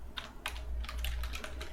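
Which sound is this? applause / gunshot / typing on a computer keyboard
typing on a computer keyboard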